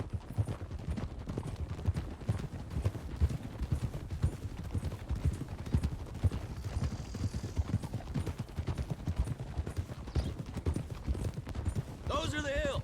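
Horses' hooves clip-clop in a steady, busy rhythm in Red Dead Redemption 2 while riders travel a road, with a voice talking over them and a brief whinny near the end.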